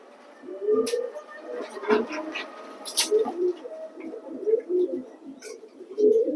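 Young female racing pigeon cooing in a loft, with soft repeated throaty coos in a steady rhythm close by, plus a few faint clicks and rustles in the background.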